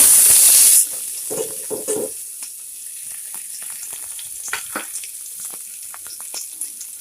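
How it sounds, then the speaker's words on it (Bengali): Cut potatoes, carrots and onions hit hot oil with a loud hissing burst, then settle into a steady, softer sizzle broken by light stirring clicks, close up. "এই যে আলু কেটে নিয়েছি, গাজর, পেঁয়াজ। সো এগুলোকে ভেজে নেব।"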